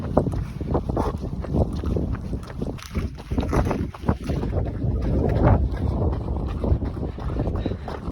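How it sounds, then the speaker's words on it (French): Strong wind buffets the microphone during an outdoor run, a continuous rough low roar that surges and gusts throughout, loud and close, with no talking. "Comme vous avez pu le voir, il y a beaucoup de vent."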